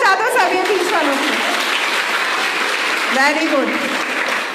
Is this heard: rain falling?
no